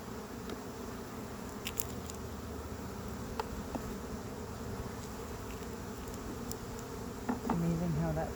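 Honeybees buzz thickly around an open hive during an inspection, a close continuous hum with a few light knocks from handling the frames and a brief voice near the end.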